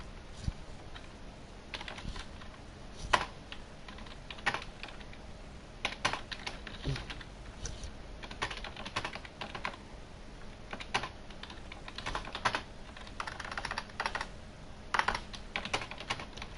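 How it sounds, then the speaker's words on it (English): Typing on a computer keyboard during an F1 2018 online racing league session, a steady stream of close key clicks and taps with occasional louder strokes, no talking. "Sorry if you can hear me typing."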